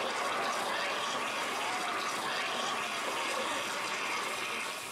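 Water gushes steadily in a washroom, a dense, loud, continuous rush like a tap or spout running full force, with no voices over it.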